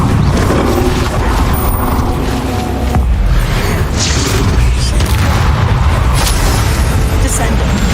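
A Bombarda spell explodes in the video game Hogwarts Legacy as a continuous, loud, dense rumble of booms and crashing impacts, with a voice calling out over the din.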